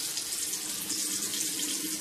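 Water runs steadily from a bathroom tap while a man wets his head for a shave with a Rockwell 6c razor, a continuous close hiss with no talk.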